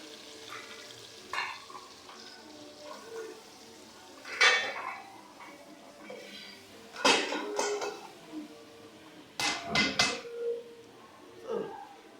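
A spoon scrapes and clanks against a pot of vegetable stew with tomato in irregular bursts while the food sizzles quietly underneath, with pauses between the stirring strokes.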